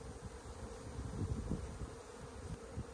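Honey bees from a swarm trap bucket buzzing steadily in a dense, continuous drone, close and moderately loud, with no talking.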